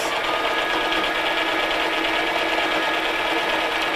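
Sewing machine stitching a straight seam along the handles of a fabric tote bag, a steady continuous whir that runs loud and unbroken throughout.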